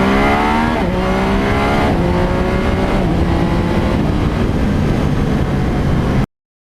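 A motorcycle with a radar detector mount rides along a road, its engine a loud, steady, close drone whose pitch slides downward as it eases off and shifts, with wind roar throughout.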